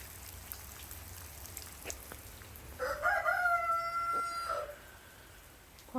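A rooster crows once from a nearby barn stall, a clear drawn-out call rising over the steady patter of rain falling outside.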